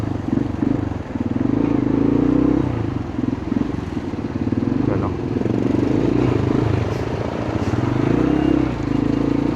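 A motorcycle called Pongkan churns through deep floodwater on a jammed stretch of Jasa Road, its engine a steady low rumble with splashing clatter, close and continuous, with a voice speaking at times.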